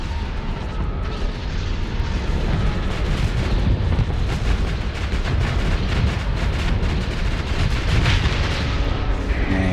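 Spaceship weapons firing in the space game Starsector, a loud continuous barrage of booming cannon blasts and explosions with dense rumbling impacts throughout.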